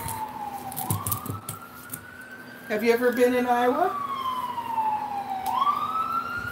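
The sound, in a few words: police siren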